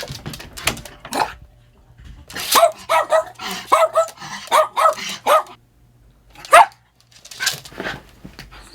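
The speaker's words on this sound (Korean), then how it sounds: "어쩔 줄을 모르더니 다시 짖기 시작합니다" A small dog left alone in a room barks in repeated bursts, some in quick clusters and others spaced apart, loud and close, with a few whimpering yips between the barks.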